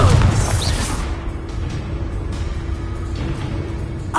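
A Confringo fire spell blast in Hogwarts Legacy, a loud burst at the start that settles into a low rumbling roar, with a few faint crackles.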